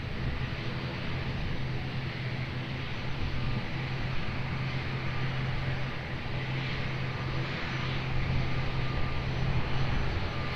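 A jet aircraft at Lisbon Airport roars steadily during takeoff, a constant broad engine rumble at moderate distance that swells slightly toward the end, with no voices over it.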